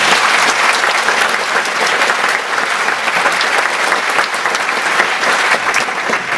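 An audience at a live talk bursts into sustained applause, a dense, even wash of many hands clapping at once, loud and steady throughout with no talking.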